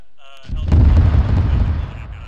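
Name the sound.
friendly US artillery bombarding military base, video game ARMA 3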